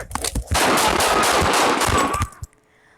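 Several rapid gunshots fired by a police officer, captured on body camera: a loud, dense burst of shots lasting about two seconds, then a final shot and quiet.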